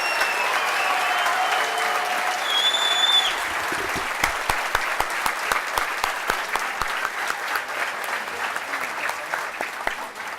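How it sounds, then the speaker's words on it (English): Audience applause for student honorees at an Ethiopian diaspora community society's awards gathering: loud, dense, sustained clapping filling the room, thinning toward the end so that single hand claps stand out more distinctly. "let's give a huge round of applause to all of our 4 student honorees"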